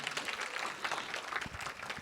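Audience at a live Gujarati comedy show applauding, a fairly faint, steady wash of clapping with a few low thumps near the end.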